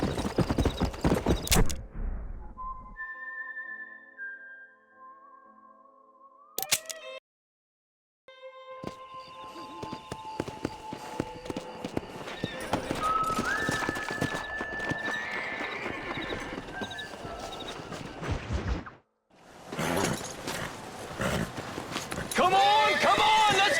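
Horses gallop with rapid clip-clop hoofbeats and neigh repeatedly in Red Dead Redemption, loud and close, with shouting voices and bursts of other game noise around them.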